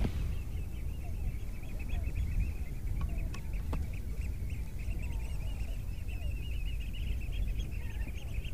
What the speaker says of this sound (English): Those birds are perhaps half a mile away from me